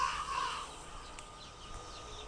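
A single crow caws at the start, fairly faint and distant over a quiet background hiss.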